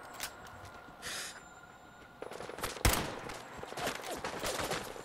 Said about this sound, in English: Well, I'd rather shoot all the 308 bullets here than never use them at all.